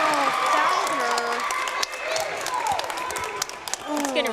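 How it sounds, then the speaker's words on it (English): Rowdy crowd at a girls' high school basketball game, steady loud cheering and applause throughout, with voices shouting over the noise and sharp bursts near the end. "Crowd is getting rowdy"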